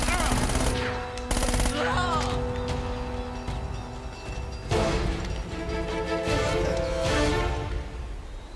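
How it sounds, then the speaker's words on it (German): Gunfire in Uncharted: Drake's Fortune during a sewer level, with loud rapid bursts of shots and clattering impacts. "Jetzt schieße ich mal, damit der Waffenwechsel macht."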